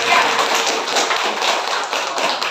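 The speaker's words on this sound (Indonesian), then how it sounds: "Tepuk tangan." A group of teachers claps together in a room at a school training session. The dense, continuous patter of many hands stays loud and even throughout, with no voices on top.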